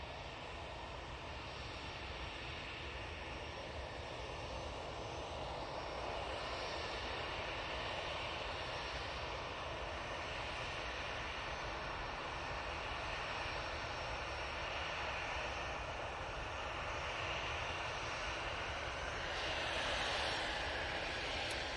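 An EasyJet airliner departs Manchester Airport, its engines a steady, broad roar that holds strong for about twenty seconds and swells slightly near the end, with no voices.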